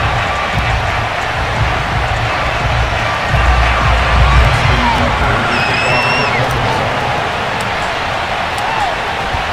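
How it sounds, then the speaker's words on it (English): A Baltimore stadium crowd in an American football video game roars and cheers as the teams take the field, a dense, steady wash of crowd noise with a swell midway and occasional whistles and whoops. "The two teams emerging from their respective tunnels a minute ago to the approval of this Baltimore crowd."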